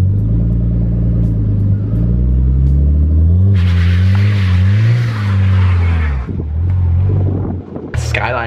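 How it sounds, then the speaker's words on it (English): A Nissan Skyline R34 engine revs loudly and steadily while its worn-out tires spin without traction trying to reverse up a driveway, pitch rising and falling, with a burst of harsh hissing noise midway. "my car is actually stuck. My tires are that stuffed that they can't even get traction to reverse up my drive"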